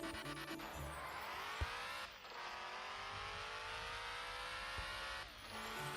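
A Mustang in the offroad video game Offroad Outlaws, run in four-wheel drive, drones steadily with a high engine whine that rises in pitch through the gears, with brief dips near two and five seconds and no talk.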